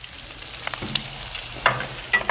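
Onions seasoned with salt and pepper sizzle on a Blackstone griddle, a soft steady fry with several sharp spatula scrapes and clicks close by, no talking.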